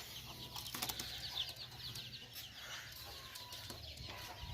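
A red-eyed Maya pigeon of Chinese breed is released and beats its wings in a few quick, papery bursts near the start, with outdoor background hiss throughout.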